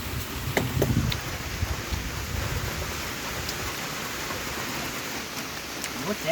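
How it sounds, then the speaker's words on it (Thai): Steady rain falls in a forest, a dense even hiss of drops on leaves and ground, with a few louder patters and knocks near the start. "ฝนตกด้วย"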